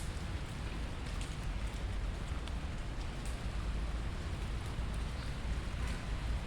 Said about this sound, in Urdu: اب تو خیر ہلکی ہلکی بارش ہو رہی ہے